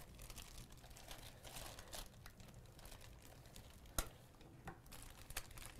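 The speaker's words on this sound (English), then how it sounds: "this is our kitchen tool here, our plastic baggie" A plastic sandwich baggie crinkles softly in a quiet room, with faint, irregular rustles and one or two sharper crackles.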